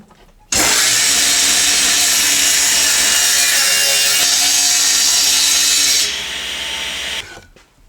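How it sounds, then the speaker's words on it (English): Table saw cutting through a plywood board with the blade and splitter raised, a loud steady whine and rasp that starts abruptly, holds for several seconds, drops slightly near the end, then winds down. "I've just raised up the blade and the splitter so that it'll cut through this board."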